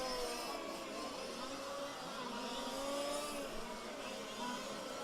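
A fifth-scale race car on a track, its small engine droning at high revs and shifting pitch as it passes, continuous and moderately distant.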